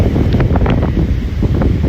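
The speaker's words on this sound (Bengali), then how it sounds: "প্রচণ্ড বাতাস সমুদ্রের" Strong sea wind on the Scottish coast roars steadily with heavy low rumble and gusty buffeting against the microphone, with faint surf-like wash beneath.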